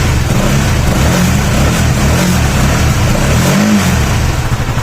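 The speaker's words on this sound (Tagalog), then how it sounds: "pinatakbo po natin itong ating motor para malaman po natin kung umaandar pa rin po siya" A motorcycle engine with a Filipino ECU, started and running after 14 years of age, holding a loud, steady idle with a few small revs.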